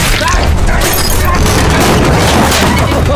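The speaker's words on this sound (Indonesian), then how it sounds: "sniper melepaskan tembakan ke arah Arik" Sniper rifle gunshot in a film scene, a loud, dense blast with crashing rumble that fills the whole stretch, dominating with no pause.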